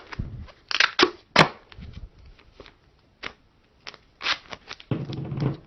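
A strip of duct tape is pulled from the roll and torn off, heard as a few sharp ripping and crackling bursts separated by short pauses, close by and fairly quiet, with no one speaking.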